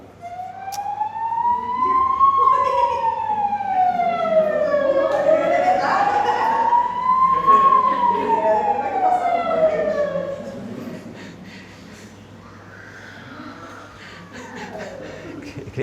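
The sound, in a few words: ambulance siren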